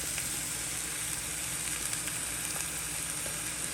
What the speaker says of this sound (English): I'm going in with oyster sauce now